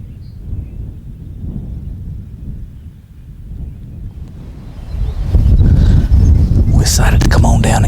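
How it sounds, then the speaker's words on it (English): Strong wind on a North Carolina mountain ridge buffets the microphone in a low, rumbling roar. It surges noticeably louder and harsher in the final few seconds. "because it's really windy"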